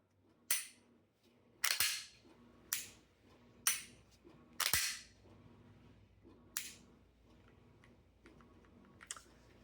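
A Springfield Echelon Compact pistol gives sharp, close trigger-break and reset clicks, about eight crisp snaps spaced irregularly with quiet gaps between them.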